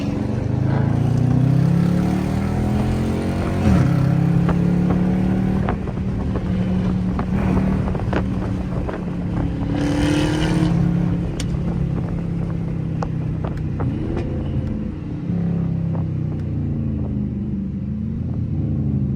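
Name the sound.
Dodge Hellcat V8 engine driving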